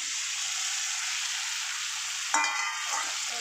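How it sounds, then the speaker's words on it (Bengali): Cooked-down spice paste frying in oil in a pan, a steady close sizzle that flares sharply as more is poured in near the end, followed by stirring; no voices. "সেগুলোকে এবার ঢেলে দেবো"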